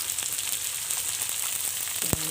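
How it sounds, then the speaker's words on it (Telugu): Potatoes fry in a pan with a steady, close hissing sizzle and a brief clink near the end. "ఆలు ఈ విధంగా అదే బంగాళదుంప ఈ విధంగా ఫ్రై చేసుకుంటే"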